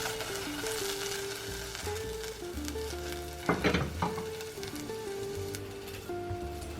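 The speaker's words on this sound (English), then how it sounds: "And then saute the white part of the onion." Onion whites sautéing in melted butter in a pan, a soft steady sizzle with a brief louder stir around the middle, under quiet background music.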